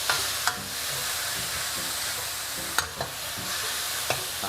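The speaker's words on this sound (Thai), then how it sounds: "แค่ผัดกับตัวน้ำมันกระเทียมเจียวเนี่ยจริงๆ มันก็แบบว่า มีความหอมแล้วนะครับ" Pork is stir-fried in fried garlic oil for a dry garlic pork dish, giving a continuous close sizzle with sparse sharp spatula clicks and scrapes against the pan.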